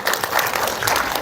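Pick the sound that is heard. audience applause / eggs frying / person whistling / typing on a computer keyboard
audience applause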